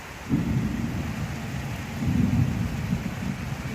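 A steady roar of rain, with low rumbling gusts that swell and ease, continuous throughout.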